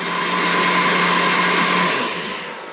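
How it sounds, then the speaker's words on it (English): A blender whirs steadily at high speed blending onions into a paste, loud and close, then winds down toward the end. "what I've got to do is blend up the onions, tip those in carefully, to make a paste"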